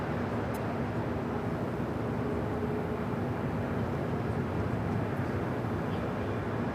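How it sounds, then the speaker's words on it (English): A Korean Air Boeing 747-8 Intercontinental on the downwind leg into LAX, heard as a steady, broad, distant jet-engine roar that holds even throughout. "Korean Air Flight 11, 747-8 coming in from Seoul on the downwind leg"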